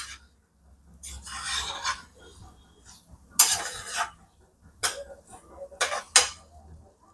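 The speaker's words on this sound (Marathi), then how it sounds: "आता आपण परत एकदा उलटण्याने याला मिक्स करून घेऊया" Spatula scraping and stirring through steamed semolina sheera in a metal pan, with several bursts of gritty scraping and clinking separated by short pauses, close and moderately loud.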